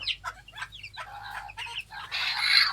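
Show-type chickens cluck in a series of short, close bursts that grow busier and louder toward the end, with no voices over them.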